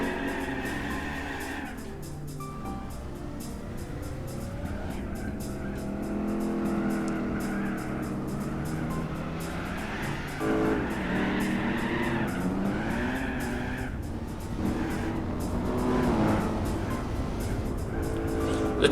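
Big Block Buick Custom with an aggressive cam in Gran Turismo 4 rumbles with a lumpy, loping idle and rises into revving bursts, punctuated by tire squeal, loud and continuous throughout.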